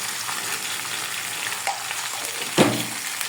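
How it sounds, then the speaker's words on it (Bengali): Vegetables seasoned with turmeric and salt fry in oil in a pan, giving a steady continuous sizzle with a couple of brief scraping stirs breaking through near the end. "এখন আমি সবজিটাকে ভালো করে একটু ভেজে নেব।"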